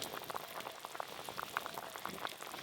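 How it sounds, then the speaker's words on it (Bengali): Fish simmers with mustard paste for a sour curry, a soft, steady bubbling and popping of boiling liquid at close range with no speech. "মাছ আর সর্ষে বাটা দিয়ে একসঙ্গে একটু ভালো করে ফুটিয়ে নেব"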